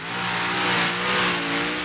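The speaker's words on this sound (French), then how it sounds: "Le vrombissement du moteur" A tractor-pulling engine at a competition in Bernay roars steadily at close range, a loud, sustained low growl with slight rises in revving over a couple of seconds.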